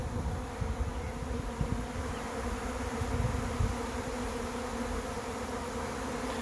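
A honey bee swarm clustered at the front of a nest box, after three days hanging in a tree, gives a steady, dense buzz of many wings close by, continuous and even with no voices.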